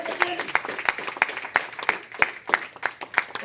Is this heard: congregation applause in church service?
yes